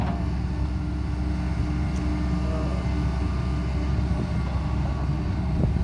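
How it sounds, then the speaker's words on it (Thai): A steady diesel drone comes from an SK140-8 excavator working a pond slope, its engine running noticeably loud as a continuous hum with no pauses. "ังเกตเสียงเครื่องก็ เริ่มเริ่มเริ่มแล้วเนาะ เริ่มเสียงดังๆขึ้นหนึ่งเหมือนกันเนาะพี่อ้น"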